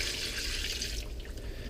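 Water runs steadily from a tap into a container for a soy sauce and water marinade for chicken adobo, a continuous close hiss that thins out toward the end.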